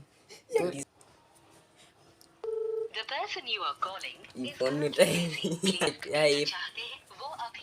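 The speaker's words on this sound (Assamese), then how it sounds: "এতিয়া এই ফোন উঠোৱা নাই" During a prank phone call, a brief electronic ringing tone sounds from the phone, preceded and followed by someone talking close to the microphone.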